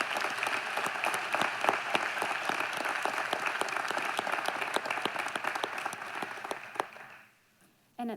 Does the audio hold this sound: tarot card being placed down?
no